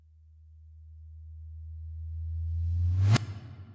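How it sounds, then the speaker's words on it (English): A tom drum hit played in reverse, a low tone swelling steadily louder for about three seconds before cutting off abruptly with a brief tail, heard alone. "We have this reverse tom effect that kind of adds to this build. It's just a tom hit in reverse."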